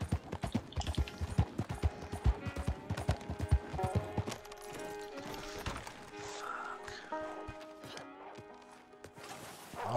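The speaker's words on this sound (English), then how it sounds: "Let's go, horse. This way." A horse walks in the Red Dead Online video game, a steady clip-clop of hooves up close for several seconds, then fading under a softer game soundscape.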